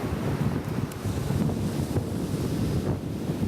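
Sea waves surge and wash steadily, a broad continuous roar of surf with wind buffeting the microphone and no pauses.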